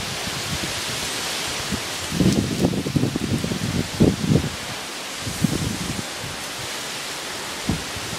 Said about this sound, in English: The wind is getting stronger and stronger right now.